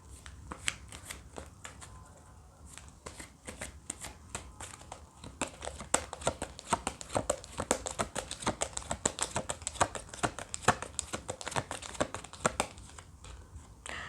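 Tarot cards are shuffled and handled up close, with a dense run of crisp riffling flicks and papery slaps that build to a busy, continuous patter. There is no speech.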